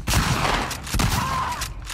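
Shotgun blasts in The Last of Us Part II, two heavy booming shots about a second apart, loud and close amid dense game noise.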